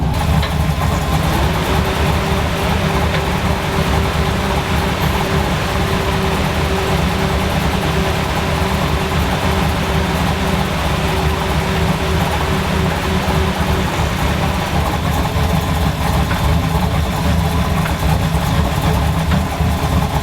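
A truck engine idles as it warms up, a loud, steady low rumble that runs unbroken throughout, with no voices.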